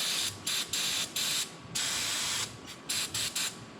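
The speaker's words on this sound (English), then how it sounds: "I'm just going to use some brake parts cleaner or whatever I happen to have to get the cleaning done" Short hissing bursts of brake parts cleaner sprayed onto a 2013 Craftsman LT1500 riding mower, several quick squirts then one long sustained spray, followed by more rapid short bursts, close and clear with no talking.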